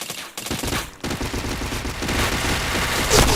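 Rapid gunfire from the online shooter game PointBlank sounds as dense, continuous, loud bursts of shots that stay close and overlap without pause.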